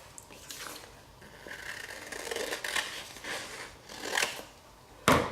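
Paper pieces being cut out with scissors for a card-making scene, a run of soft, crisp snips and rustles with a sharper, louder snip near the end, no talking.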